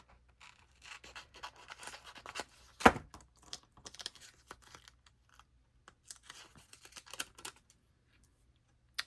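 Scissors cut paper rub-ons in quiet, sparse snips and crisp paper rustles, with one sharper snap partway through, close up in a calm room.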